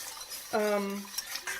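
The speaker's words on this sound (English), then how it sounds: "you want to be stirring" A whisk stirs a flour mixture for mac and cheese in a pot, a brief metallic scrape with a ringing clink, followed by lighter taps.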